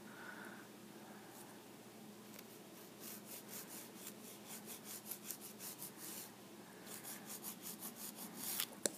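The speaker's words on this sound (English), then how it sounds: "now we're just going to go ahead and file down the sides just to smooth it out" A nail file rasps along the sides of acrylic nails in quick, faint back-and-forth strokes, close up, forming short rhythmic runs with a pause in the middle and no talking.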